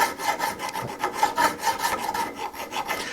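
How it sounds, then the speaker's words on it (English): A metal file scrapes corrosion off the steel tang of a woodcarving tool in quick, even back-and-forth strokes, close and gritty. "You can use a rasp, or a file rather, to get this off."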